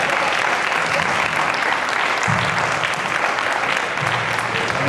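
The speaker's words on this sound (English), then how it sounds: "Come on, give God a hand clap of praise." A church audience claps hands in praise, a dense, steady wash of applause from many people that holds evenly throughout.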